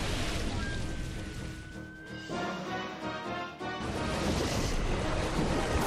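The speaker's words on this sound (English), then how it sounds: "It's pouring rain in the Colosseum." Heavy rain pours in the Colosseum arena of the video game Pokémon Battle Revolution, a loud, continuous rushing hiss with a brief tonal whine and short dips partway through.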